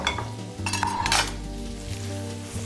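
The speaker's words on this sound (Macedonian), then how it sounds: "Ви треба воктава за вакво мешање" Vegetables are stir-fried in a wok for a Chinese dish, with a steady close sizzle under repeated metallic clinks and scrapes of a utensil against the pan.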